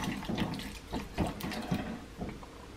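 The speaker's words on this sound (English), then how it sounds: "I'll give the leaves a rinse," Tap water splashes over bee balm leaves during a rinse, making a soft, uneven patter with small bursts of splashing, nearby and fairly quiet.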